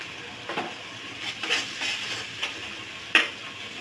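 Garlic paste and ginger paste hit hot oil in a pan for biryani, giving a soft steady sizzle with scattered stirring scrapes and a few sharper clinks, alone without talk.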